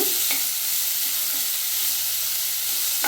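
Beetroot fries in oil while being stirred, producing a loud, continuous sizzle close by, with a couple of sharp scraping knocks from the utensil.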